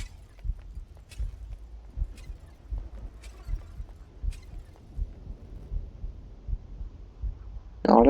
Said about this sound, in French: on entend les battements de cœur de la cible qui va mourir